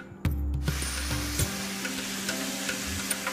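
Chicken with chopped tomato and coriander leaves is fried and stirred in a pan, with a dense close sizzle and occasional spatula knocks. A brief burst of loud humming noise plays at the start before the frying continues alone.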